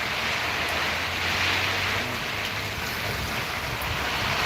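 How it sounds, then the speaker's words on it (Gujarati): Steady, dense rushing downpour filling the whole clip, a broad continuous hiss with a low rumble underneath and no voices. "વરસાદ પણ એવા છે બરાબરનો ચાલી રહ્યો છે વરસાદ ઘણો છે"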